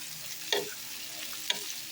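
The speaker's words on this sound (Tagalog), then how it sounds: "Haluin natin." Ampalaya (bitter gourd) frying in a pan as it is stirred, with a soft continuous sizzle and two distinct scraping strokes of the utensil, quiet and close.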